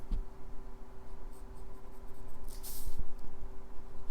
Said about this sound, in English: Now I'll take my kneaded art gum eraser and erase out